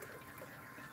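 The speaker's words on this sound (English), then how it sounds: "Pick up my skillet, and I'm going to pour that right into that jar." Hot chicken-fried-steak grease poured from a skillet into a small jar, a steady low trickling splash that runs unbroken and faint for about a second.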